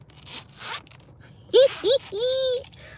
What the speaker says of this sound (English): I broke the zipper on the wallet.